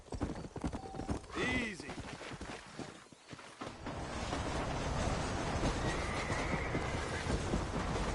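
Horse hooves clip-clop along at a steady pace in the Western video game Red Dead Redemption, with a brief neigh early on and a voice speaking over the trotting.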